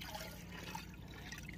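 Water pours steadily from a watering can onto the soil of a potted, wilting hibiscus plant, a continuous close trickle and splash with no talking.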